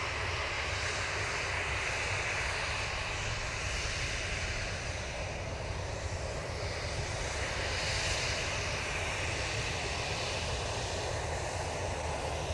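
Ryanair jet airliner at Manchester Airport, a steady broad engine roar held at moderate loudness throughout with no talk.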